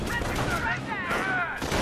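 Gunfire from the Company of Heroes video game, a dense, continuous barrage of rapid shots layered together at steady loudness, with voices in the game's battle chatter mixed in.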